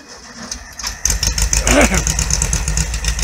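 VW Beetle engine starts and runs with a loud, close, rhythmic chugging and knocking that settles into a rough, uneven idle.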